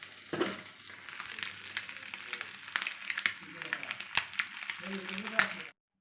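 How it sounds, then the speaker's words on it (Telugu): Halved boiled eggs seasoned with pepper and salt fry in a little oil, giving a steady close sizzle and crackle with occasional stirring and clinks throughout. "ఇంకా ఇది కొంచెం ఆయిల్ వేసుకొని ఇలాగ ఫ్రై చేసుకుంటున్నాను"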